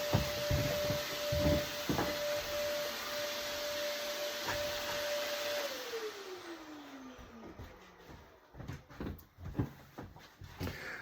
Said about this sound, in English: My vacuum cleaner stopped working earlier on.